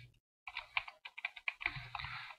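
Computer keyboard keys are pressed in a quick run of close, crisp clicks while a spreadsheet is being worked on, with no voice over the tapping.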